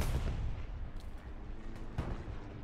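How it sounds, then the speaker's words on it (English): Artillery fire in the game Squad on the Hill 400 map, a constant low rumble of distant bombardment broken by a couple of heavier booms. "Because here comes the artillery."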